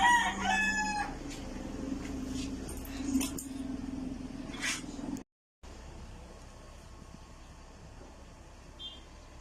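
Roosters from Aklan, Philippines, crowing in an outdoor setting, with several loud close crows in the first seconds over steady background noise, then a brief dropout and quieter ambient sound.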